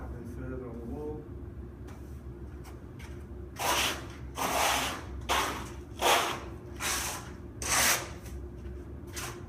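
A steel trowel spreads and floats plaster across a wall, giving five or six broad, rhythmic scraping sweeps close by, each about half a second long, over a steady low hum, with a little murmured talk at the start.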